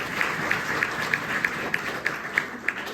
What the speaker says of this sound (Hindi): और एक हमारी ताली हमारे ट्रेनर्स के लिए, दोनों ट्रेनर्स के लिए